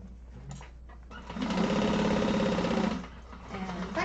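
A sewing machine stitches a half-inch seam on a Hollyhock hobo bag, running as one steady, loud mechanical whir for about a second and a half, with quieter handling sounds before and after.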